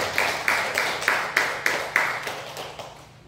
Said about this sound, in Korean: 우리 박수로 축하하고 감사를